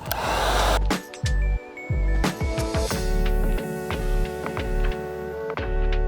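A heat gun blows a loud, steady whooshing roar over headlight tint film on an Infiniti QX, cutting out and starting again several times, with small clicks and taps between the bursts.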